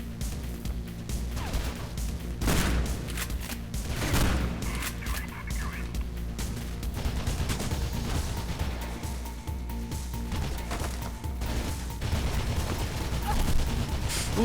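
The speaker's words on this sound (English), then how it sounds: "I did not realize that machine gun had got sat there" Bursts of machine gun fire in the first-person game Mirror's Edge, loud and close, with rapid crackling volleys and heavy impacts mixed into dense action noise and a talking voice at times.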